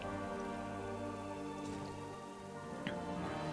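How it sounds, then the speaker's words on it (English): Rain falls in the video game World of Warcraft, a soft even patter over a sustained musical drone with a couple of faint brief chimes, no talking. "I really enjoy the rain"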